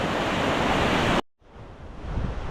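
River water rushing downstream beside a path in Idukki: a loud, full roar that cuts out abruptly partway through, then returns quieter and builds back up.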